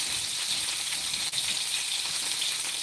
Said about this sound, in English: I'm cooking these just like you cook regular sausage